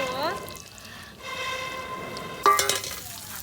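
Kuppa fish fries in a pan in a Konkan coastal kitchen, a continuous soft sizzle with a brief clatter near the end, while voices can be heard in the background.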